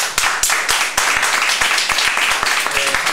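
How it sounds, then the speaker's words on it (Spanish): Audience applause at a marketing conference, with dense clapping from a sizable crowd in a hall, steady and continuous throughout and with no talk over it. "Un aplauso para todos nosotros."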